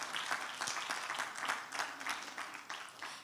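An audience of graduates at a leadership conference graduation ceremony applauds faintly and steadily, a soft, distant wash of many hands clapping with a faint voice underneath.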